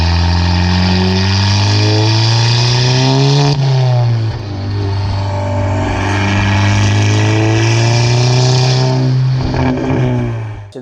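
A carbon-fiber Audi TT engine revs hard and holds a raw, unmuffled roar through a 4-inch downpipe and 3-inch exhaust with no resonators or box, dropping briefly before climbing again, close to the listener throughout.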